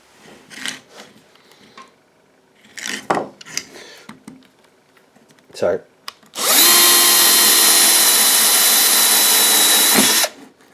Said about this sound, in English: just by drilling it, just shreds it up a little bit